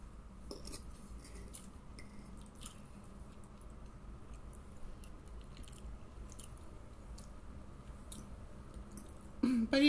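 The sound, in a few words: chewing and eating buckwheat during a mukbang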